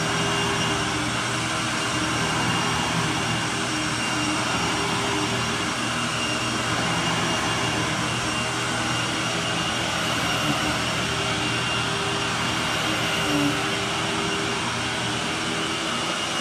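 A vacuum pulls dry soil and hair out of area rugs before they are washed, giving a loud, steady, unbroken roar from start to finish with no voices.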